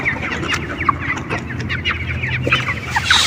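Chickens on a poultry farm, suffering from a severe cold, make hoarse, croaking frog-like calls: repeated short clucks and rasps at close range over a steady barn hum, with no talking.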